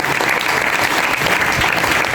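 Loud, dense applause from a crowd at a Ganesh Chaturthi festival, steady clapping filling the whole moment without a break.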